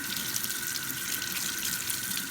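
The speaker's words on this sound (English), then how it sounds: "First, you thoroughly wash your cucumbers." Cucumbers washed under a running kitchen tap, a steady close hiss of flowing water with no talking, brief and even in level.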